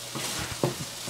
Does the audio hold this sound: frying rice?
yes